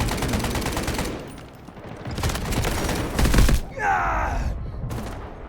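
Gunfire in the Delta Force shooter video game: rapid bursts of shots close and loud, with a brief lull, then a heavy volley and a swooshing effect before the fire fades.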